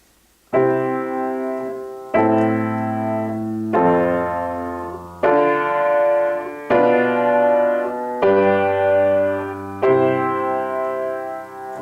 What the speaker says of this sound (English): the descending thirds progression, played on a piano